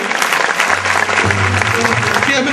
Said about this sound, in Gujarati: તાળીઓના નાદ સાથે પૂજ્ય મહારાજ શ્રીને આપણે સત્કારીએ